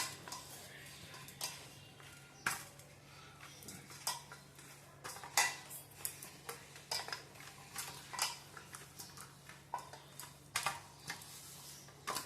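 Sakkarpara dough, a stiff Gujarati sweet dough of flour and jaggery, kneaded by hand in a bowl, giving a steady run of soft taps and sharp clicks over a low background hum, with no talking.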